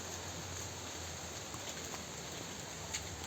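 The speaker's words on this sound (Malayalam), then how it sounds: "നല്ല മഴയാണ് ഗൈസ്, നല്ല മഴ കാണുന്നുണ്ടോ അറിയില്ല." Steady rain falls as a constant, even hiss with no pauses. It is moderately quiet and spread wide, with a few faint drip ticks on top.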